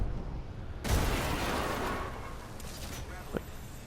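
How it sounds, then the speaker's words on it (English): A grenade blast in the Apex Legends Arenas mode: a sudden loud broadband boom that hits and then fades into a rumbling tail, with a small sharp pop near the end. "Just try to throw a grenade at him."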